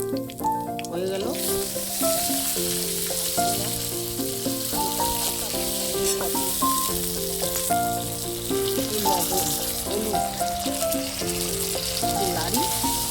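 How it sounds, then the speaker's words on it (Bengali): Bay leaf and chillies sizzle in hot oil for a rohu fish curry, a continuous close crackle and hiss heard under prominent background music. "তেল দিই, তেল আছে যদিও, তেজপাতা, লঙ্কা হয়ে গেল"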